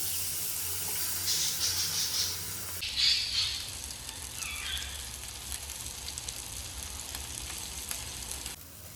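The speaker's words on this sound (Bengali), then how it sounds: "এবার আমি এই যে মশলা মাখানো বেগুনগুলো আমি দিয়ে দেবো এখানে" Spiced eggplant slices drop into well-heated oil in a pan, giving bursts of hissing sizzle that settle into a steady, close frying crackle for several seconds.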